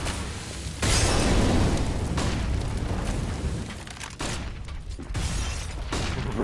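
A heavy grenade blast on de_train in Counter-Strike, a sudden loud boom followed by rumbling debris and gunfire, with later sharp bursts breaking through.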